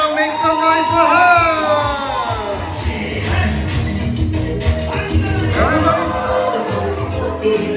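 A crowd at a Roce ceremony cheers, whoops and shouts for a game winner, loud and continuous, with a voice calling out over the rising noise.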